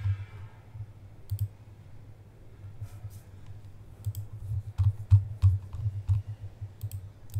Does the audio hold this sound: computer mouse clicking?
yes